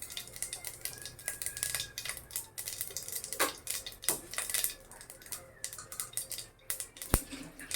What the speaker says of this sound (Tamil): கடுகு நல்லா தெரிச்சிருச்சு